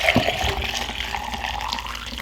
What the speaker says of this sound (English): Let me just go in and pour the rest so you can see what 7 cups turned into.